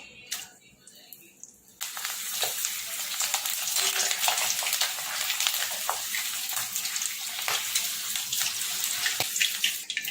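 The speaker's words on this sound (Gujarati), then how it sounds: "હવે મરચાં ફ્રાય કરી લઈશું આપણે." Green chillies hit hot oil for ulta vada pav, bursting from a quiet start into a loud, continuous sizzle that stays dense and close, with light clatter on top.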